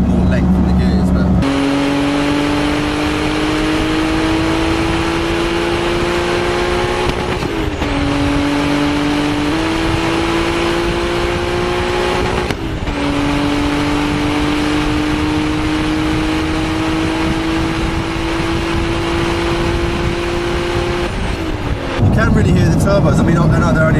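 Twin turbo Toyota Soarer, lowered, cruising at about 3,500 RPM and 110 km/h, a steady loud engine drone heard from inside with slight pitch creep and two brief dips as the throttle lifts, then eases off at the end.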